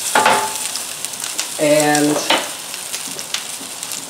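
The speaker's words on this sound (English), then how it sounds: "what the crackling sound you hear is this chicken" Chicken crackles and sizzles in a cast iron pan, a steady close frying hiss with a short louder stretch of stirring midway, while a voice speaks briefly at the start.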